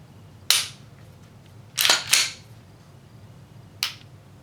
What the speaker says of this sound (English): The trigger reset on this gun is incredible.